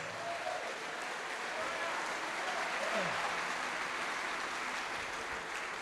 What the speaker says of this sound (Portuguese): Vamos aplaudir ao Rei dos Reis mais uma vez.